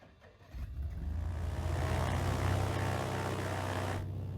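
Rear engine of a BBS Britten-Norman Trislander three-engined propeller plane starting up in Microsoft Flight Simulator, a brief whine giving way to a loud, steady, close piston-and-propeller roar that holds to the end.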